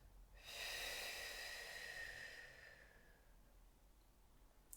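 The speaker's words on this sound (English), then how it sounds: "The exhale is audible. Let's hear you breathe out." A single long, breathy exhale during a Pilates movement break, pushed out through pursed lips, rises quickly, holds steady and then fades over a couple of seconds, close and fairly loud against a quiet room.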